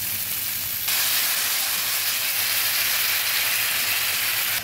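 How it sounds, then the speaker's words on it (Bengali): Fried potatoes go into the fish curry masala for a katla fish curry, and a loud, steady sizzle bursts up almost a second in, holding a constant hiss to the end. "আমি যে আলুগুলো ভেজে রেখেছি এটা দিয়ে দিচ্ছি, আর ভালোভাবে নেড়ে কিছুক্ষণের জন্য ভেজে দেবো।"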